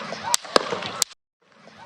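Gunshots at an outdoor Trump campaign rally: three sharp, loud cracks in quick succession within about a second, over crowd noise and amplified sound, then a sudden drop to near silence before the crowd returns faintly.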